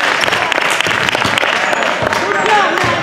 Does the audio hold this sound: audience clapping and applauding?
yes